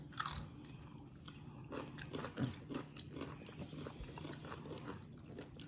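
Someone bites into a crispy watermelon or green apple pickle, giving a sharp close crunch followed by a few softer chewing crunches, with no talking.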